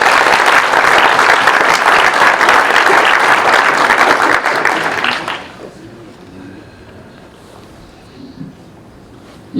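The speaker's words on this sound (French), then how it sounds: "Merci messieurs, on peut les applaudir." A hall audience at a workplace ceremony applauds medal recipients with loud, dense clapping for about five seconds, which then stops abruptly into quiet room noise.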